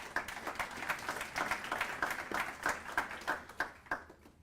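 Scattered applause at a youth conference session, fairly quiet and somewhat distant, with individual claps falling into a loose rhythm that gradually thins out.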